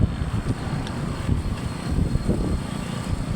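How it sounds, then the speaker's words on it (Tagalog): Strong wind buffets the microphone outdoors in Dasmariñas, Cavite ahead of rain, a continuous low rumbling roar with gusty surges, near and loud. "napakalakas ng hangin"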